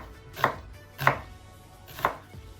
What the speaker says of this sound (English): for your onion, you just want to cut it right in half, and then slice it like this